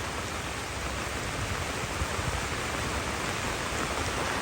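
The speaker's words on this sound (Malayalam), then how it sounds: "വെള്ളം കണ്ടില്ല ഇങ്ങനെ മഴ ഇങ്ങനെ പെയ്യുമ്പോൾ" Steady rain pours onto a fish pond, a dense, even hiss of drops on the water surface, continuous and fairly loud throughout with no voices.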